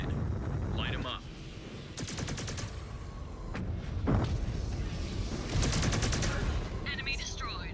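Mech weapons fire at enemies in the Mechwarrior 5: Clans video game, bursts of rapid repeating shots and sharp blasts breaking over a rumbling low background, with brief game voices in between.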